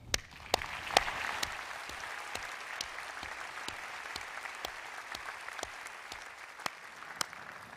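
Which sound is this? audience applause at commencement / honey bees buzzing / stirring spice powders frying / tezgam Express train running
audience applause at commencement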